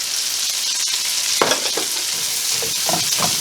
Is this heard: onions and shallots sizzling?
yes